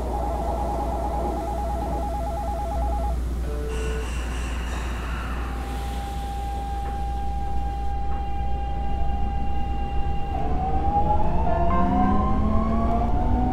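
A subway train on Korea's Line 15 pulling away from Gyeyangsan station, with electronic chime tones and a steady whine that rises in pitch as the motor speeds up, over a constant low rumble.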